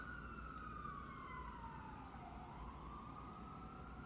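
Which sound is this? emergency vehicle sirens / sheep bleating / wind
emergency vehicle sirens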